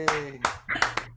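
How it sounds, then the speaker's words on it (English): A handful of sharp, separate hand claps ring out close by, five distinct hits in about a second, sparse and uneven rather than a full sustained ovation. "please, one more round of applause for Melanie Hilgren Wilkie"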